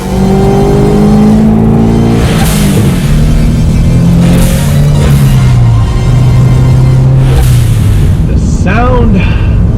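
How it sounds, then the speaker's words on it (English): A Toyota GT86 fitted with a turbo kit and a vented-to-atmosphere blow-off valve revs loudly and close by, its engine note climbing and falling repeatedly, with a sharp whooshing valve release near the end. "The vented atmosphere blow-off valve, you know, you might think it's on the edge of obnoxious, but I love it."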